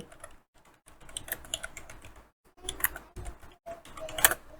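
Typing on a computer keyboard while writing in MS Word, a close run of quick irregular key clicks in short bursts separated by brief pauses.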